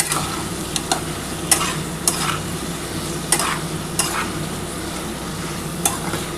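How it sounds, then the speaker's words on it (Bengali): Spiced soybean curry with potato, papaya and a little water sautéed in a pan, a steady sizzle and bubbling fry under repeated scraping and clacking of a spoon stirring, close and even, no talking. "এই জলটুকু দিয়ে আগে ভালোভাবে একটু কষিয়ে নিতে হবে।"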